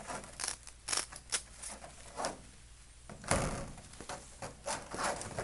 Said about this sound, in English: Household scissors.